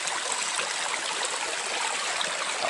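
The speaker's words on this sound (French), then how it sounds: "Quand je disais tantôt que j'approchais d'un petit cours d'eau, je l'ai trouvé." A small stream flows through jungle in Koh Kong, Cambodia, making a steady, close rush of water with bright splashing and babbling and no voices.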